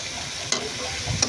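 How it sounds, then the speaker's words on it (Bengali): Masala frying in a pan while being stirred, a steady close sizzle with two sharp scraping strokes of a spoon against the pan. "এখন মশলাটা ভালো মতো কষিয়ে নেব।"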